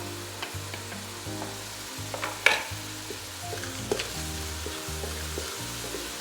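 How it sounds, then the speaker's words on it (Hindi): Chopped onions frying in a pan as the base for chicken korma, a steady sizzle broken by repeated stirring scrapes and a sharp clack, with no talking. "इसको हम गोल्डन कर लेंगे प्याज को।"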